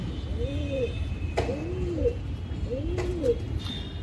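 Pigeons, including a green pigeon, give soft, low, repeated coos three times in a row, close by over a steady background hum.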